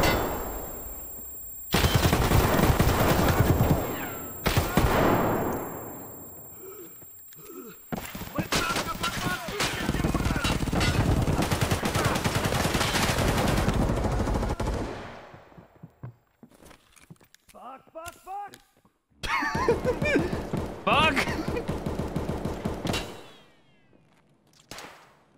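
Loud bursts of rapid automatic gunfire from a first-person shooter video game, in long sustained volleys broken by short pauses, with speech and game sounds in the quieter gaps.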